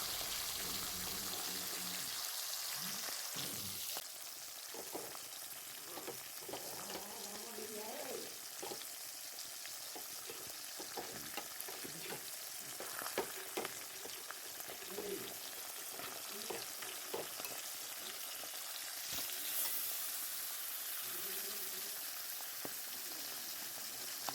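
Pabda fish fry in hot oil in a pan for a Bengali fish curry, giving a loud, steady, close sizzle throughout with occasional clinks of a utensil against the pan.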